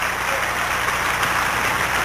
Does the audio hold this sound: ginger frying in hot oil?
no